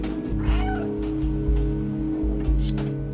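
A cat meows a few times in the video game Stray over a steady, rhythmic mechanical hum with regular low pulses.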